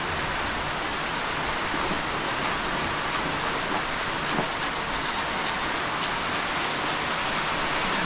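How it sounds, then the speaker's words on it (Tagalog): Heavy rain falls steadily, a loud, dense hiss of water pouring on surfaces that stays even and unbroken from start to finish, with no voices. "Lakas ng ulan."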